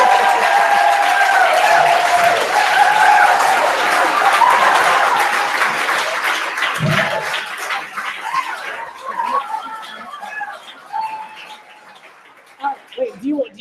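Applause for Kennan Scott at a maker educator convening, a dense wash of clapping that stays loud for several seconds, then thins and fades into scattered claps and faint background voices.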